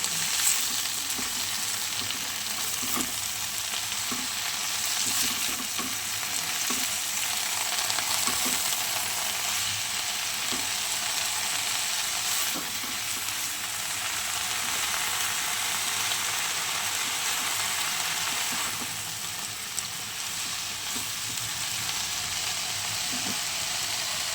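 Bottle gourd greens (lau shak) seasoned with salt and turmeric fry steadily in a pan, a continuous loud sizzle with occasional small crackles and stirring scrapes, alone without talk.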